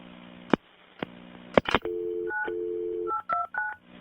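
A telephone used to call back an emergency line: a few sharp clicks, then a run of DTMF dialing tones, one long steady tone and several short beeps, loud and close, with no talk.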